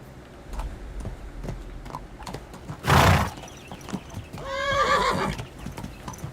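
A horse in the video game Kingdom Come: Deliverance II snorts loudly, then lets out a shrill whinny, with faint hoof clops and soft background ambience around it.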